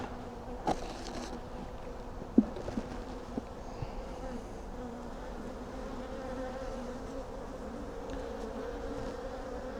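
Honeybees, including drones, fly around the hives of a home apiary, making a steady insect hum that runs throughout, with a few faint knocks and no talking.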